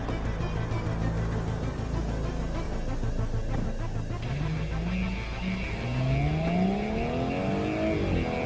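Audi S5 Sportback turbo petrol engine with an eight-speed automatic and quattro all-wheel drive, heard on a road test drive: a steady loud engine drone that climbs in pitch through rising revs in the later seconds, with no talk.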